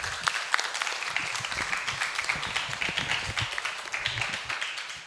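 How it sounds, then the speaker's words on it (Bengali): Crowd clapping at a school drama festival: a lively burst of many hands with distinct individual claps audible within the mass, holding steady for several seconds in a hall. "সকলের জন্য একটা জোরে হাততালি চাইব"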